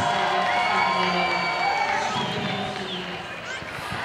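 A roller derby crowd cheering during a bout between the Junction City Roller Dolls and Emerald City Rollergirls: loud, sustained whoops and shouts filling a large venue and slowly tapering off, with an announcer talking over the noise.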